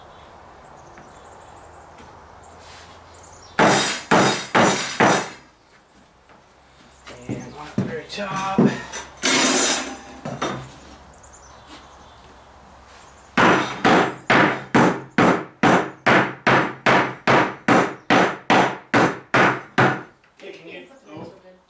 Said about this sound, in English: Start hammering, or you want me to hammer?